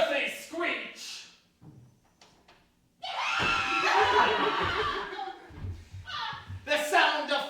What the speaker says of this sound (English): An unearthly screech.